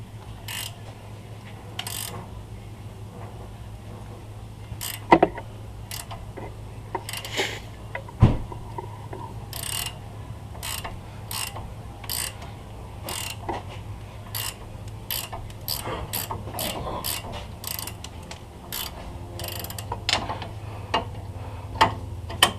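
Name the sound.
18mm ratchet wrench removing GM truck upper ball joint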